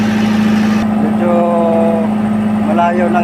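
A fishing boat's engine runs steadily at sea, a constant droning hum that holds through the clip, with faint background talk over it.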